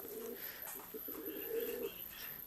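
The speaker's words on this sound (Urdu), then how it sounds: "تو یہ آپ کو کبوتر دکھاتے ہیں جی ماشاءاللہ۔" Pigeons coo steadily at a rest house in Gujar Khan, several soft, low repeated calls overlapping close by with faint chirps mixed in.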